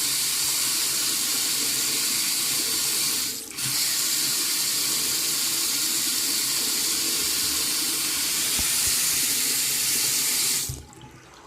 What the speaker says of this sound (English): as you turn the water on,